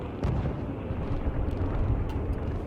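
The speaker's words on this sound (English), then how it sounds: "Artillery." Artillery explosions in the video game Kaiserreich, a continuous heavy rumbling barrage with soft thuds and booms, loud and sustained, no talking.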